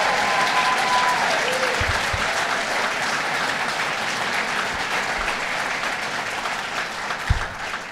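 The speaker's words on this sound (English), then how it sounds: "Let's give Mike Ryan a round of applause." An audience in a hotel hall at a governor's announcement gives a sustained round of applause, dense even clapping throughout with a faint voice trailing off near the start and a few low thumps.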